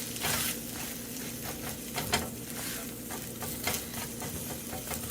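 Food fries in a pan with a steady, fairly loud sizzle and crackle throughout, close by, with a few brief scrapes or taps riding over the continuous hiss.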